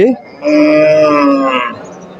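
A cow moos loudly and close by at Kalampur weekly livestock market, one long drawn-out harmonic call lasting over a second, after a brief sound at the start.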